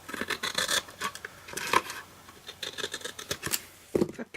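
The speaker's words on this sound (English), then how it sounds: "from the back trim that off" Cardstock being trimmed from the back with a paper trimmer or scissors while making a diagonal trifold card: a series of short, close rasping cuts and slides, irregular in rhythm, with a few small clicks and no talk.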